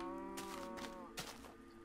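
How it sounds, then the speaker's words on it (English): A pink sheep in Minecraft bleats in a short, wavering harmonic call, close and clear, followed by a couple of quiet thuds. "Prized possession, the pink sheep."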